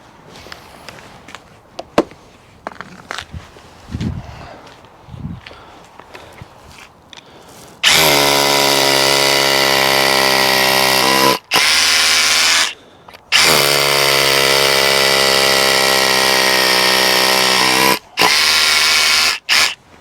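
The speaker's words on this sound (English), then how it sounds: "Let the drill do the work." A Hilti drill bores into a block, preceded by scattered handling knocks and footsteps, then loud sustained whining hammer-drilling in two long runs with brief pauses between.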